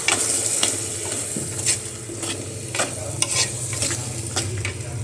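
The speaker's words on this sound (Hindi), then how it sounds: "तो अब इसमें बारी आती है टमाटर की प्यूरी डालने की। अब मिक्स कर देंगे इसको" A vegetable curry in a clay pot gets tomato purée stirred in, with a soft steady sizzle under repeated scraping strokes of a spoon against the pot.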